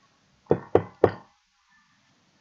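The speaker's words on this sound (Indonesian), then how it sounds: "lalu mengetuk pintu" Three firm knocks on a door in quick, evenly spaced succession, close and distinct, with silence after.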